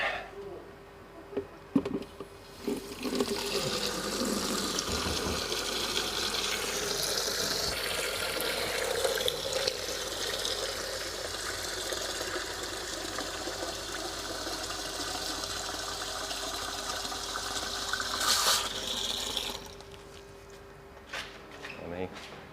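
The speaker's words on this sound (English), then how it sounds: "I'll just use the tap over here" Tap water runs steadily into a jug for about twenty seconds, a continuous close splashing rush that starts abruptly and cuts off near the end, with brief clatter before and after.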